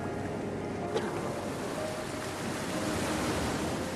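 Sea waves washing on a shore form a steady, dense rush of surf noise that stays even and fairly loud throughout, with no voices.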